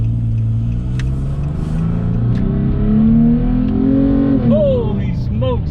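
A 2008 Nissan Frontier pickup with a 4.0 V6 accelerates hard from a standstill, its engine note climbing through the revs in a loud, close, continuous roar from inside the cab.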